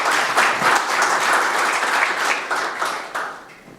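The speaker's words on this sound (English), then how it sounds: "please give them a big round of applause" Audience members at a morning panel on the prop trading boom give a big round of applause, individual claps distinct within the crowd, loud at first and tapering off toward the end.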